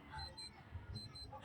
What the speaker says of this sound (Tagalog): May alarm kasi talaga itong relo natin.